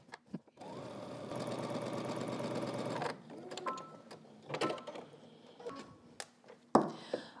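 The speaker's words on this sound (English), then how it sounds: "I'm stitching sort of just here in the, stitching in the ditch just to keep it really nice and neat" Domestic sewing machine stitching in the ditch along a seam on a pair of pants, a close, steady motor whir for about two and a half seconds, then stopping, followed by fabric handling and small clicks.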